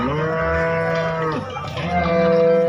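A cow at a rainy cattle market lets out a long, loud, deep moo that dips midway and then rises again, close and alone with no talk.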